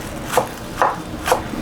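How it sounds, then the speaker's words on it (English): Green onions chopped on a cutting board, three evenly spaced knife thuds with soft rubbing between them, close and fairly clear, no speech. "the last thing we're going to cut is some green onions"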